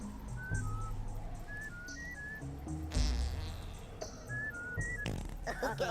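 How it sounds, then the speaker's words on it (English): Short rising whistles from Mudokon characters in the Oddworld video game sound in several quick groups, with rumbling game effects and scattered background sounds underneath. "They use whistles to get around sometimes or speak to each other"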